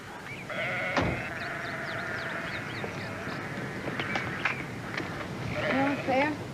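Sheep bleat repeatedly in the open, fairly close, with a person's voice and outdoor background noise mixed in.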